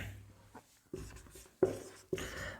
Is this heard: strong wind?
no